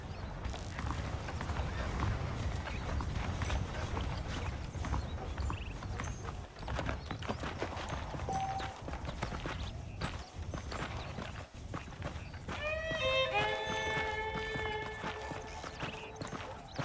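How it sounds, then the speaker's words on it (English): Rapid horse hooves clip-clop in a steady gallop-like rhythm in the video game Red Dead Redemption, with a horse whinnying and a bright tonal chime near the end. "The horses are saddled up over here."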